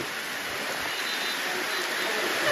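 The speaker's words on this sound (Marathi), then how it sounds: "एवढ्या जोरात पाऊस पडायला लागलाय" Heavy rain pours steadily during a stop on a motorcycle ride from Thane toward Dwarka, a dense, even hiss close by with no voices.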